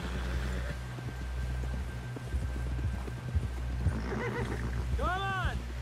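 Horse hooves clip-clop at a steady walking pace in Red Dead Redemption 2, joined by a short neigh near the end, over a low ambient hum with voices talking.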